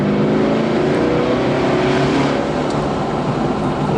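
A Walkinshaw Performance VXR8 engine roars loud and close, a dense sustained growl with a slight swell in the middle, with no voices over it.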